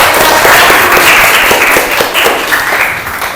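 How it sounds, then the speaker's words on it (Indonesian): Loud, dense applause from a classroom of students for a classmate, many hands clapping steadily and close by, tapering slightly at the end. "kita berikan tepuk tangan untuk Alia yang sudah menghafal semua bagian sistem pernapasan"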